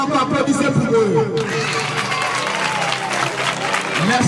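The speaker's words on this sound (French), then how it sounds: "Une fois encore, applaudissez pour eux." An audience at a school spelling contest claps loudly and steadily, a dense, close burst of crowd applause that carries on for the whole stretch, with some voices mixed in.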